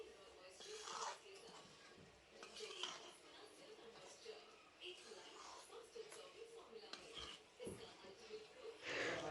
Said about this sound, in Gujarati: ધીમે ધીમે આપણે આ બધી વસ્તુને એકદમ મિક્સ કરી લઈશું